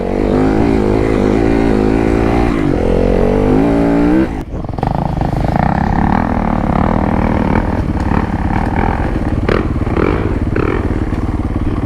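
A motorcycle engine runs loud and close throughout a ride, its tone shifting through revs before a brief dip, then rough, uneven throttle and clattering over rough off-trail ground.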